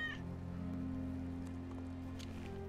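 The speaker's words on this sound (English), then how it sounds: "That's Wedge's cat." A cat in the Final Fantasy VII Remake video game gives one short meow right at the start, set over a steady droning game soundtrack that continues to the end.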